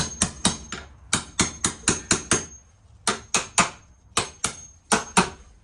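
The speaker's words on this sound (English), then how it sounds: "of course you need a hammer" Sharp metallic hammer blows ring out close and loud as an old nail is worked out of a window frame, struck in quick bursts of three to five evenly spaced hits separated by brief pauses.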